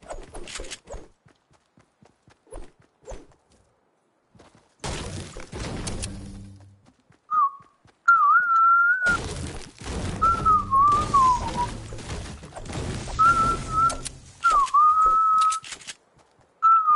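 A person whistles a wavering tune in several short phrases against a noisy background with intermittent bursts of rustling, loud and close, with no talk.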